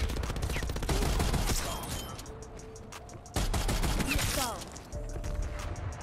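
DMR 14 rifle fire in a video game: loud, rapid bursts of sharp shots in quick succession, pausing briefly before another dense volley, with the last shots trailing off.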